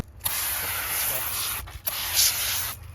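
A detail brush scrubs a car tire during detailing, a close, hissing, scratchy rubbing that runs steadily with a brief break partway through.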